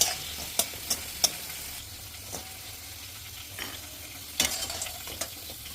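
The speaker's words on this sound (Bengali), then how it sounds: "কি ক্রিস্পি আওয়াজটা দেখ, বুঝতে পারছো?" Crispy boiled potatoes frying in a pan for aloo bhaja, a soft sizzle broken by sharp scraping stirs, several at the start and another cluster near the end.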